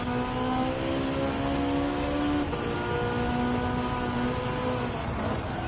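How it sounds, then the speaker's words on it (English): A race car engine in Gran Turismo 7 drones steadily and loudly throughout, its harmonic whine holding pitch before shifting briefly mid-run, with a hint of tire noise and no talking. "You hear this car?"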